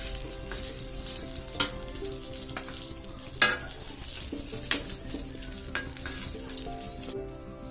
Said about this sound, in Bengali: বেগুনগুলো আমি একটু লাল লাল করে ভেজে নিয়েছি